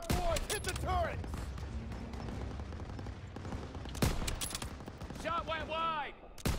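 Machine gun fire in a Call of Duty: WWII battle, bursts and rattles of gunfire with sharp shots cutting through, while voices shout over the noise throughout.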